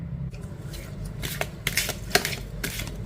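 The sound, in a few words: shuffling tarot cards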